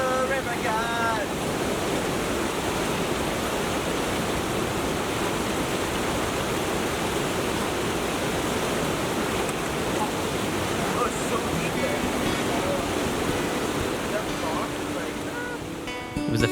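A waterfall on a remote Arctic river roars steadily nearby, a dense, unbroken rush of falling water with a hint of wind, loud and constant throughout.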